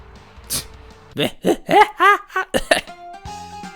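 Several harsh human coughs and throat-clearing sounds in a quick cluster, close and fairly loud, followed by a brief quiet tone.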